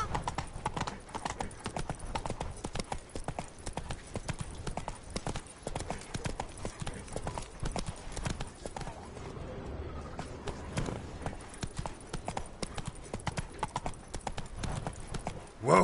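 In The Witcher 3, the horse Roach trots along with a rapid, rhythmic clip-clop of hooves that runs steadily throughout and sounds close, with a voice speaking over it at times.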